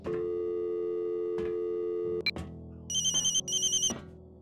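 Telephone busy signal in Silent Hill: Shattered Memories: a steady electronic tone gives way to a click, then a short run of rapid, bright pulsed beeps, heard alone and fairly clear.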